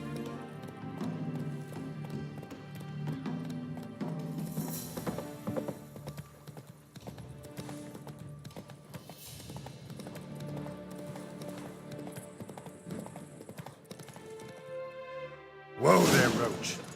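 Horse galloping in The Witcher III video game, a steady, loud clip-clop of hooves running continuously, ending in a sharp burst as the horse is reined in, with a voice briefly over it.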